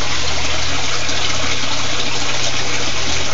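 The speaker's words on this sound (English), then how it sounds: "You see that pipe that sticks up the side there? That's water coming out of there." Water draining from a pipe in an aquaponics fish tank system, a loud, continuous close-up rush and trickle that stays steady throughout with no voices.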